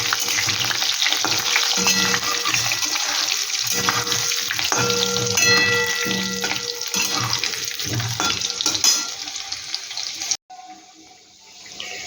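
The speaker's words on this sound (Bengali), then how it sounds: "চার পিস আলু দিয়ে দিচ্ছি আলুটা একটু আমি এখানে হালকা করে একটু এই গরম ফোড়নের সাথেই ভেজে নিচ্ছি" Potato pieces fry in hot oil with a spice tempering, giving a loud, steady sizzle that runs close up and unbroken for most of the stretch before cutting off abruptly near the end.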